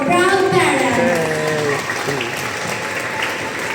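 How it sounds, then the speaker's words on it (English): Graduation audience applause for proud parents at a school ceremony, a loud wash of clapping that starts under a voice and carries on alone afterward. "a warm round of applause to our proud parents"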